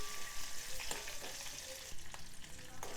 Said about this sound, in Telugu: అంతా చక్కగా కలుపుకొని 1 నిమిషం వేగనివ్వాలి.